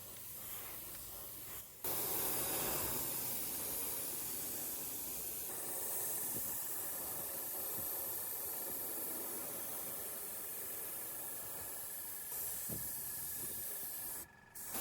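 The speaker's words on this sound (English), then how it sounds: "I here start with a light base coat of some yellow with my airbrush" An airbrush sprays a light yellow dye base coat onto leather, a soft continuous hiss that starts abruptly, holds steady at low level and cuts out briefly near the end.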